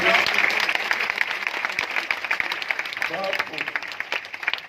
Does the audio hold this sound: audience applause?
yes